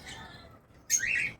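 A pet bird gives a brief, high chirp near the end, bright and moderately close over quiet room background, with no talking.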